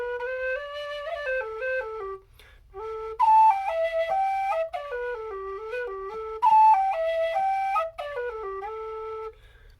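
A G tin whistle plays a lilting tune alone, clear bright notes moving stepwise in phrases with a brief pause near the start, close and fairly loud with no talking.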